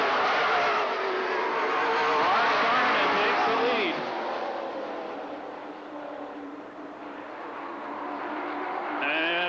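Mid American Series race trucks roar around LaCrosse Speedway at an Oktoberfest event, a loud sustained engine howl with shifting pitch as trucks pass and the pack noise rises and fades, with a race announcer talking over it.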